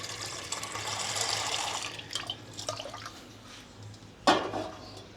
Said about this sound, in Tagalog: Maglalagay naman po tayo ng tubig sa ating kaserola